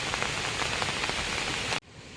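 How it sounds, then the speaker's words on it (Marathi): Steady monsoon rain falls on open grassland in Konkan, a dense, even hiss that continues for most of the moment and then cuts off abruptly, leaving a quieter background. "तिकडं पाऊस आलाय तर आवाज कमी जात असेल"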